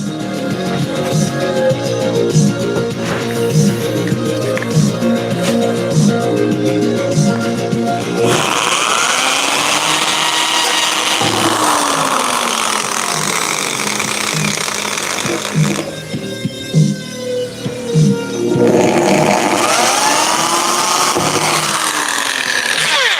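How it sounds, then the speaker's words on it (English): A power drill bores out holes in a garage workshop, a loud, steady mechanical whine with rising and falling pitch sweeps as the bit bites and eases, running alone in long continuous bursts. "I'm gonna quickly get these holes drilled out."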